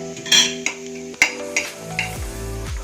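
Whole fennel seeds tipped into hot oil already sizzling with mustard seeds for a Gujarati stuffed karela dish, giving a steady close crackle with a few sharp clinks of a metal spoon against the pan.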